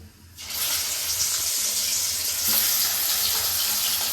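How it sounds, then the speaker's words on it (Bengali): Koi fish dropped into hot oil in a kadai, a sudden loud hiss that settles into steady sizzling frying for several seconds. "এবার তেল গরম হয়ে গেছে, মাছগুলো ভেজে নেব।"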